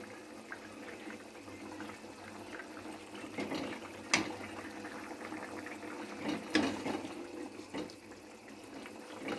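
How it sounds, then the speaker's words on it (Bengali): Fish curry with potato and onion bubbling in a pot, a faint steady simmer with soft popping and a few sharper clicks, heard close with no talk. "মাছগুলো দেওয়ার পরে আমার তরকারিটা ফুটছে"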